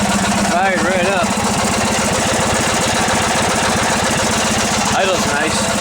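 An old Yardman lawn tractor engine idles steadily close by, a loud, even mechanical chug running unbroken through the whole stretch, with a voice speaking briefly over it near the start and again near the end.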